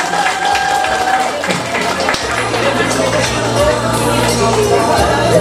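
Audience applause at a family celebration with a prize draw, a dense steady patter of clapping mixed with crowd hubbub and voices talking over it throughout.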